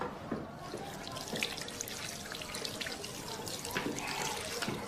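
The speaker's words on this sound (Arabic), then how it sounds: "ممكن نخش نغسل ايدي؟" Water runs from a tap at a sink while hands are washed, a steady splashing stream with small irregular spatters and trickles, close and moderately loud with no voices.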